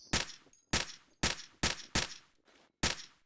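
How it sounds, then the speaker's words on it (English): Six sharp, evenly spaced USP pistol shots in the Battlefield 2 AIX mod, each a loud close crack with a brief decaying tail, fired alone with no talk. "This one is the USP pistol with new sound"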